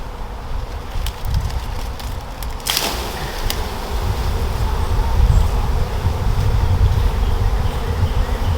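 Honey bees swarm around a hive box baited with lemongrass in a backyard, a continuous close buzzing drone with wind noise that swells louder toward the end, without talking.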